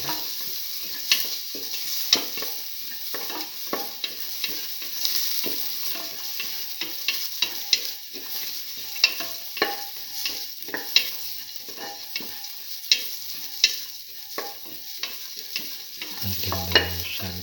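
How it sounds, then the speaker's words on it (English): Shallots and fennel seeds sauté in a pan, giving a steady soft sizzle broken by frequent stirring scrapes and clicks throughout, with no talking. "Saute the shallots and the fennel seeds together."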